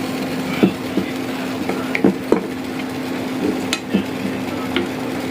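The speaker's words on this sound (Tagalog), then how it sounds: "Hinahalo-halo ng mga idol para kumalat ang miswa at magka halo-halo na ang lasa." A spoon stirring soup with miswa noodles in a pot, giving irregular clinks and scrapes against the pot over a steady simmering hiss, close and clear with no voices.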